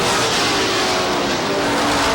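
Race cars roaring around the oval at Star Speedway in New Hampshire, a dense, continuous engine drone with steady high-pitched whine, loud and sustained throughout the late laps.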